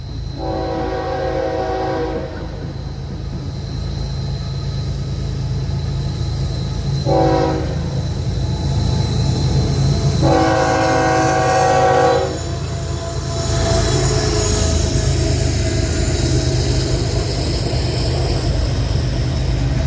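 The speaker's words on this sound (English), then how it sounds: "the gates activated, and the train came around the corner" A Florida East Coast Railway train rumbles past close by at a crossing in St. Augustine, its horn sounding in several long blasts and a short one, with wheels grinding steadily underneath.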